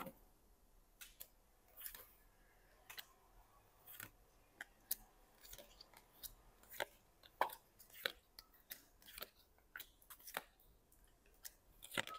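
Tarot cards spread out one by one on a table, a quiet room with a string of sharp soft flicks and taps at irregular intervals, close and faint.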